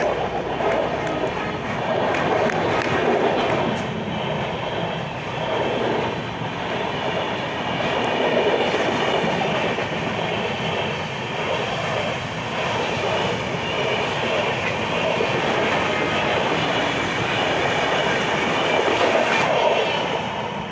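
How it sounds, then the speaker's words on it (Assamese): A train rumbles past steadily for the whole stretch, a continuous loud rolling roar with faint rhythmic clatter of wheels on rails. "এই ট্ৰেইন আহিছে দেখিছে আপোনালোকে"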